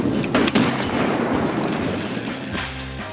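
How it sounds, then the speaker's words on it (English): Grenade blasts and gunfire thud through an Escape From Tarkov raid: a few loud, close booms at the start fade into a rumbling tail, and a softer burst comes near the end. "Nade out. Gonna nade again."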